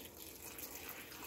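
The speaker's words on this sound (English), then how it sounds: "is just keep adding more water" Water gushes steadily into a canning pot packed with eight pounds of mushrooms, a continuous broadband rushing pour at low level with no talk.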